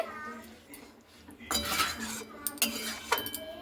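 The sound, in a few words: stirring fish curry with garam masala in pot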